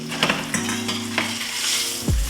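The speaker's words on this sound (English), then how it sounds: "we're gonna add the butter and the Havana honey chipotle rub to my asparagus" Asparagus fries in a pan with butter and honey chipotle rub, a close steady sizzle with a few stirring clanks and utensil scrapes over it.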